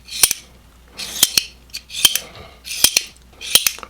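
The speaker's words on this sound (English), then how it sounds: "But yes, this is a full-on gravity knife." A Reate EXO-M titanium gravity knife blade being flipped open and shut, repeated sharp metallic clicks and snaps in about five quick bursts, each with a bright ringing swish, close and loud with no talking.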